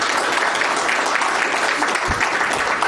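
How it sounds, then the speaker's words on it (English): A crowd applauds in dense, steady clapping that holds loud and continuous throughout, at a press event with Trump and Netanyahu. "The people of Israel applaud you for it."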